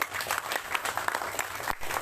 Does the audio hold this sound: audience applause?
yes